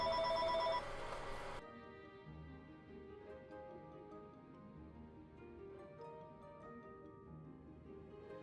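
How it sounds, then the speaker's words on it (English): A telephone rings loudly for about a second and a half, then stops abruptly. Soft, tonal video-game music with a light ticking rhythm carries on underneath. "Oh no, it's the phone."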